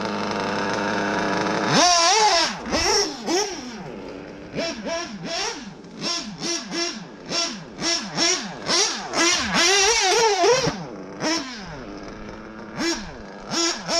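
A modified Triton L5 engine fitted with a Nova race carburetor revs hard over and over in quick, rising and falling bursts, loud and close with no talking.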